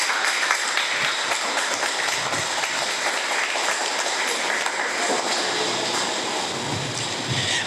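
Steady applause from guests at a quinceañera celebration in Acapulco, a continuous, rain-like patter of many hands clapping at an even level throughout.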